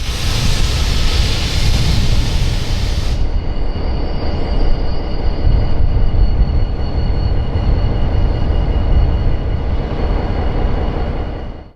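A former Santa Fe GP20u diesel locomotive rolls slowly along track on a low-speed railroad, a loud continuous rumble of engine and wheels with a brief high squeal early on, close by throughout.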